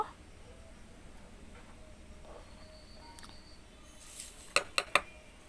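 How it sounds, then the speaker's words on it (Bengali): A spoon adds sugar to green mango juice, giving three quick, bright clinks against a glass near the end, after a stretch of faint, quiet kitchen ambience. "আমি 3 থেকে 4 চামচ চিনি দিয়ে দেব।"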